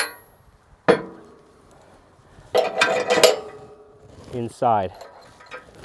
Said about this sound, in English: as I open up the clamshell and close this guard how the main flywheel attaches